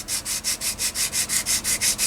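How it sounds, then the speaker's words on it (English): Sandpaper rubbed back and forth over a vacuum-formed plastic model kit part, about eleven even, rhythmic scratchy strokes in quick succession, close and clear with no talking. "When you're sanding vacuum kits, never use your fingers."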